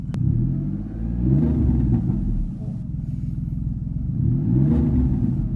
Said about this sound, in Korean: 배기가 배기 사운드가 엉덩이까지 좀 전달이 되는 것 같습니다